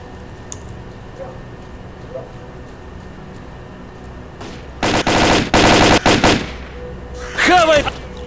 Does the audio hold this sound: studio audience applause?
no